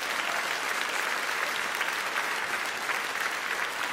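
A jazz concert audience at a jubilee performance by a piano trio and guests claps in a steady, dense, even roar of applause that fills the whole stretch at moderate distance.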